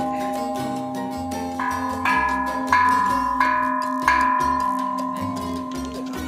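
A bell rings out with a series of clear metallic strikes, each leaving a ringing tone that overlaps the next, loud and close, with no talking.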